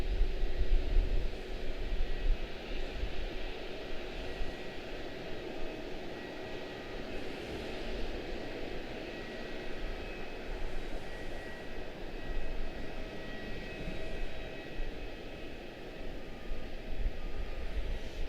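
A PSA Airlines CRJ-900 jet, flight 5085 to Birmingham, departs Charlotte-Douglas airport with a steady, moderately loud engine roar and faint whine tones that hold unbroken from start to finish, with no voices.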